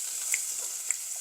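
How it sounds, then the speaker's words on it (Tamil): Onion and capsicum sautéing in a pan give off a faint, steady sizzle with a couple of light clicks from stirring. "இந்த ஷேப்பில் கேப்சிகம் எல்லாம் சேர்க்குறேன். சேர்த்து நல்லா வதங்க விடுறேன்."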